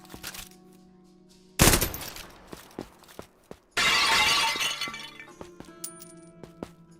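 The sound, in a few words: red crystals being blown up and shattering, from a video game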